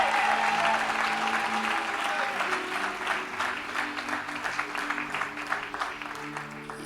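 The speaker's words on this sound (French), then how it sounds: "Et tu fais bien d'applaudir." Congregation at a church camp service applauds warmly, a steady wash of clapping at moderate distance that tapers slightly toward the end, with faint sustained tones underneath.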